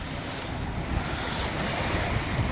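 Waves wash around a sailboat at sea, mixed with wind buffeting the microphone in a steady, dense roar that stays even throughout, with no voices.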